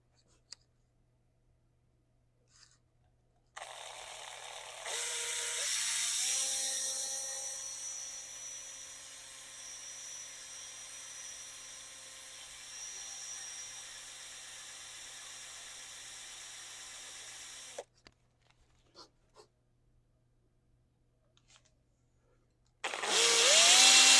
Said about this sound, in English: So I'm just using a 3/16 drill bit, a little bit smaller than the hole itself.